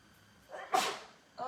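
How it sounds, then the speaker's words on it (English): A single sharp sneeze bursts out close by, preceded by a brief inhale, during a home papercraft session making gingerbread-themed cards; a faint sound follows at the end. "I'm not sure why I'm so sneezy all of a sudden"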